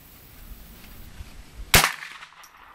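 A single sharp rifle shot cracks at a shooting range, one loud report with a short ring-off, following faint background rustle and low thumps.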